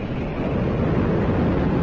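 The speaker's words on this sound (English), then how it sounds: "we have liftoff of the United Launch Alliance AtlasV rocket with the STP3 mission" United Launch Alliance Atlas V rocket with RD-180 engine lifting off on the STP-3 mission: a broad, roaring wall of noise, loud and sustained like heavy surf or wind, with no gaps or distinct onsets.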